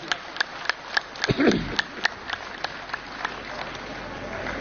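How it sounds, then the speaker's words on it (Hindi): Sparse, scattered clapping from a crowd at a political rally, a few sharp claps spread unevenly, with a voice speaking briefly in the middle. "ऐसे अभय सिंह चौटाला जी के जोरदार तालियां सम्मानित साथियों"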